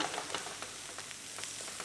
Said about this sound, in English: I can see the sizzling of the pan